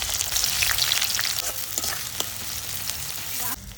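Chopped onions sizzle and crackle in hot mustard oil, a steady dense frying hiss with occasional stirring scrapes, close and fairly loud, cutting off abruptly near the end.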